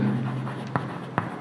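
Writing on a classroom board during an ecosystem lesson, with short scratchy strokes and two sharp taps as the writing tool strikes the surface, while a faint low hum sits underneath.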